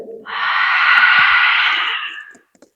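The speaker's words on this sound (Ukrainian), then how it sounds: "Вдих. Через ніс і видих." A long, steady breath drawn in through the nose and let out, part of a diaphragm breathing exercise; one smooth airy exhale of about two seconds, close and fairly loud, with no talking.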